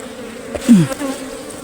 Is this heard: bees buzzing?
yes